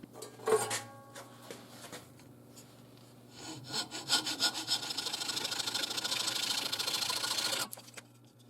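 A hand saw cuts the end off a knife steel slab clamped in a vise, with a few light scrapes and clinks first, then a fast, loud, steady rasping stroke that runs for several seconds.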